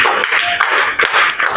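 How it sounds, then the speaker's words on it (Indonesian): A classroom of students claps together after a lesson activity, a dense, steady patter of hands lasting the whole moment, fairly loud and close, with no voices over it. "Tepuk tangan buat semuanya."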